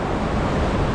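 Sea water washing into a narrow rocky inlet on the Puglia coastline, a loud, continuous rushing wash blended with wind noise and no pauses.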